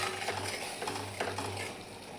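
Masala for a chavali and potato curry fries in oil in a pan, making a soft, low sizzle along with quiet stirring and the light clink of a utensil.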